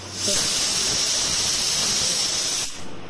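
Steam hisses loudly and steadily out of a pressure cooker after cooking jackfruit seed dal, a close, continuous rush that starts abruptly and cuts off near the end.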